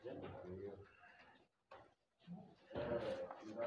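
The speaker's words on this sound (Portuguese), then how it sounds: "Olha que cabra tão bonita, pessoal." Several dairy goats bleat mixed with close talking voices, loud and uneven, in a lively goat farm in Surubim, Pernambuco, Brazil.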